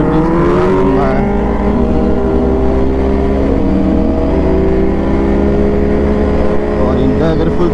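A Kawasaki Z900 motorcycle engine accelerates hard on a long road stretch, its loud rising whine climbing through the gears with steady wind and road roar.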